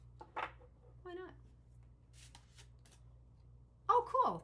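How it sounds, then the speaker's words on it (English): Tarot cards riffle and slap softly in a few short bursts, with brief bits of speech in between over a low steady hum. "I'm still shuffling anyway"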